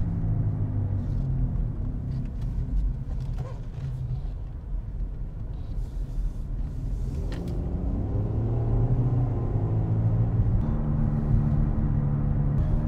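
A Nissan Altima with the air conditioning switched on, its engine and cabin giving a steady low rumble throughout that grows slightly heavier and louder in the second half, with no talk.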